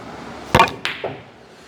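Pool cue striking the cue ball, a sharp close wooden click followed by a second crisp knock and a softer tap as the balls roll and settle in a quiet room.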